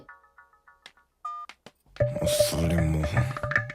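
A telephone keypad gives a quick run of short dial tones, several brief beeps and then a longer held tone, before a loud burst of music and voices takes over the last half.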